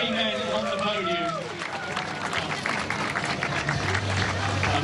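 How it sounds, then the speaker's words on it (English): Crowd applause for the podium finishers at a half marathon in Ras Al Khaimah, a moderate clapping wash mixed with an announcer's voice over a public address system. "If we may, another round of applause for 3 men on the podium."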